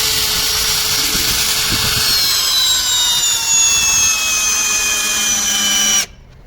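A Vitals Professional AU 1840 BSQC cordless drill driver drives an 8x100 lag screw into a birch beam without a pilot hole: a loud, close motor whine that drops slowly in pitch under load, then cuts off abruptly.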